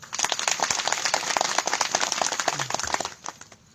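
Women in a kirtan audience clap together in a dense, rapid patter of hand claps that stays loud for about three seconds, then quickly thins out and stops.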